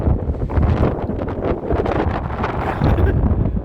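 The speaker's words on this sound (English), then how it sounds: "Oh, the wind. The wind is a bitch." Strong gusts buffet the microphone outdoors in New Mexico, a loud rumbling roar that swells and dips in waves throughout, close and unbroken.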